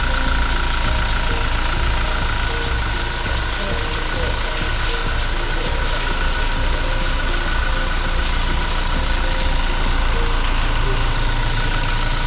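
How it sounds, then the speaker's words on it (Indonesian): A Toyota Fortuner's 2400 cc diesel engine idles steadily and evenly, a continuous close hum with no breaks throughout. "ini mesinnya, mesin diesel 2400 cc"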